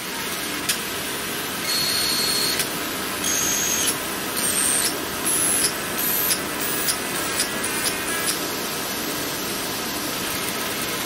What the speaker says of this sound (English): You can actually hear the laser hitting the material.